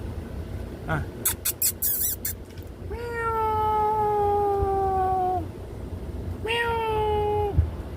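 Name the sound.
cat meowing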